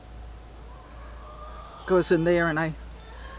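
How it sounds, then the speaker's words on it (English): Backyard chickens squawking near a rain barrel, a short loud burst of harmonic calls lasting under a second, with a person talking just before. "the chickens who are squawking their brains out"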